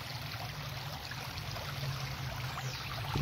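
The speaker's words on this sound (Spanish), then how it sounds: "como música de fondo se escucha el río según pasa por las piedras" A river runs over stones, giving a steady, even wash of flowing water that stays fairly soft and continuous throughout, with no voices.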